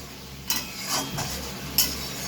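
A spatula stirs spice paste frying in oil in a pan for a Bengali fish curry, with a few soft scraping clinks against the pan over a faint steady sizzle.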